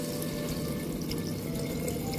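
Water is poured into a pot of cooking vegetables for sambhar, giving a steady, continuous splashing and bubbling wash that fills the short moment without talk.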